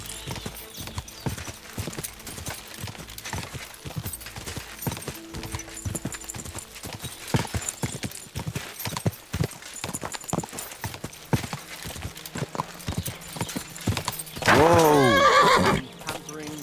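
Rhythmic clip-clop of horse hooves in the video game Kingdom Come: Deliverance 2 runs throughout, mixed with game sounds and talking, then a loud whinny near the end.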